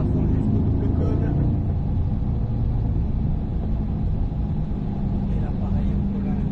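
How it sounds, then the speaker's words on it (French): A Corvette C8 pulls hard at full throttle on a race track, its engine a steady, loud low rumble throughout, heard from inside the car with a voice talking over it. "Et là, on débraque et on accélère. Allez, gaz à fond jusqu'au double cône."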